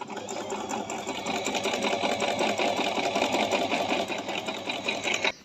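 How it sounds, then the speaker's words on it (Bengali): A Singer digital sewing machine, Model 1408, stitches a decorative design, its needle mechanism whirring in a fast, steady rapid-fire rhythm, loud and close throughout with no voices. "এখন আমি সেলাইটা করতেছি"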